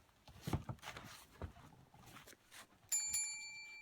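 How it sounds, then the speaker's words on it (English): A wrestling match bell rings sharply near the end, steady bright tones sustaining after a strike, following a stretch of crowd and arena noise. "Referee Patar Fire Breather calling for the bell, and this match is underway."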